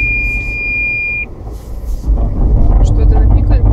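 A Toyota Land Cruiser 200 parking sensor beeps during an off-road test drive, a single steady high tone held for about a second before engine rumble and a voice take over.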